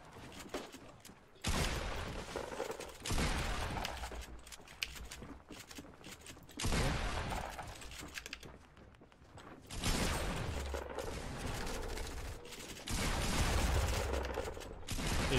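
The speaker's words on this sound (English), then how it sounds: "Is that a shotgun? It's definitely a shotgun." Pump shotgun fire sounds in the video game Fortnite, coming as several loud, harsh blasts spread across the stretch and separated by quieter gaps.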